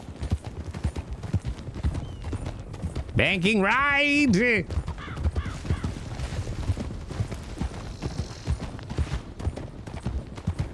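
Hooves of a cheap starter horse clip-clop steadily in Red Dead Redemption 2, a close continuous trotting rhythm beneath ongoing talk, interrupted by a loud neigh early on.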